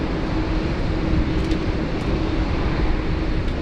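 An American airliner at Sydney Airport, a loud steady jet-engine roar that stays even and continuous throughout, heard from fairly close by.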